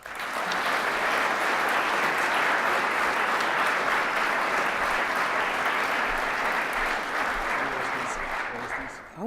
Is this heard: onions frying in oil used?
no